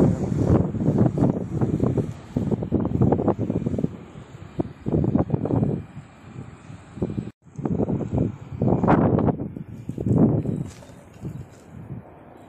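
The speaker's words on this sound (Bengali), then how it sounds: "ছাদে তো ভয়ঙ্কর হাওয়া" Strong wind gusts roar across a rooftop surrounded by hills in Pune and buffet the microphone in repeated surges, rising and falling with brief lulls between blasts.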